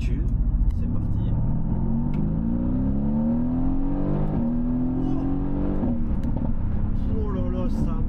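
Mercedes-AMG GT V8 accelerating hard onto a road from a stop, engine note climbing steadily through the revs with a shift or two, loud and close, with someone speaking over it.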